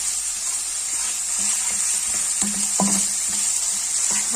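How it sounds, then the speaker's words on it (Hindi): Ginger and garlic paste fries lightly in a pan for Russian cutlets, a steady close sizzle with small crackling pops and occasional stirring scrapes, no talking. "तो बस हल्का सा इसको हम फ्राई करेंगे।"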